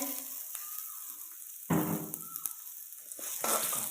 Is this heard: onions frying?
yes